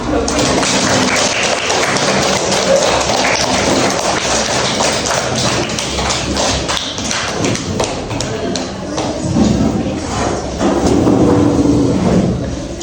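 Applause breaks out in a classroom during a school project presentation, a dense, steady wash of many hands clapping that lasts throughout, with voices mixed in underneath.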